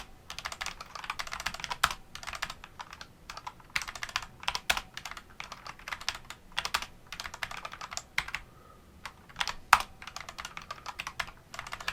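Rapid typing on a computer keyboard while coding, dense irregular bursts of crisp key clicks with brief pauses, close and clear with no voice.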